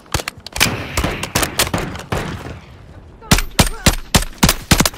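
Rapid bursts of video game gunfire crack out in loud, sharp volleys, pausing briefly before another fast string of shots.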